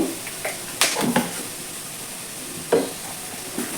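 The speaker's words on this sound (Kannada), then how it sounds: "ಇವಾಗ ಕರ್ಬೇವಿನ ಸೊಪ್ಪು ಹಾಕ್ತಾ ಇದ್ದೀನಿ ಇದನ್ನು ಕೂಡ ಫ್ರೈ ಮಾಡ್ತಾ ಇದ್ದೀನಿ" Curry leaves and turmeric fry in a pan for a North Karnataka mandakki oggarane, giving a faint sizzle with a few sharp spattering crackles and stirring taps, close by, with no speech.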